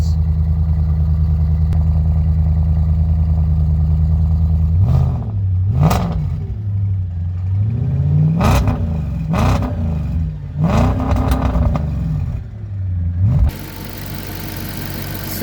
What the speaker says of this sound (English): lovely V8 rumble from the quad exhausts